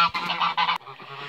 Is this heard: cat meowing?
no